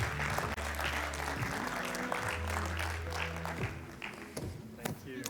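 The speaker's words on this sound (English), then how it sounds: "A round of applause, please." Applause from a conference audience fills the clip, steady and dense at first, then thinning into scattered claps toward the end.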